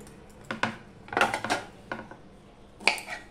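A knife slicing bitter gourd lengthwise on a board in a home kitchen, giving a few sharp, separate cuts and clacks against the surface, close and clear with short pauses between them.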